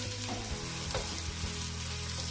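An onion sauce mixture for jollof rice sizzles and fries steadily in a pot while being stirred, with a close, continuous hiss and occasional scraping from the spoon, and no talking.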